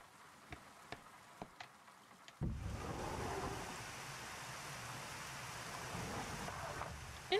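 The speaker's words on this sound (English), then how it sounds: "Oh, it's raining outside now." Steady rain with a low roar like surf sets in abruptly after a few sparse clicks and plays alone, loud and continuous, as weather in the video game Yume Nikki.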